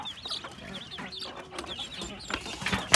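Young chicks separated from their mother hen peep in a steady stream of high, thin chirps, fairly close, with soft background noise throughout.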